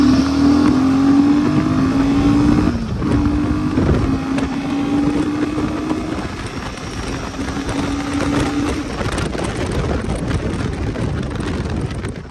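A new Royal Enfield 452cc motorcycle ridden gently, its engine a steady drone that rises slightly in pitch, with heavy wind rush across the microphone throughout and no talking.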